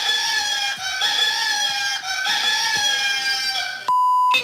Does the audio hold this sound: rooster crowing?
yes